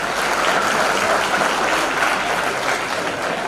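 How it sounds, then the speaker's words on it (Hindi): A packed crowd at a live institute stand-up comedy show claps steadily, a thick, even wash of applause holding at full strength throughout. "बस आपके तालियों में जोर होना चाहिए"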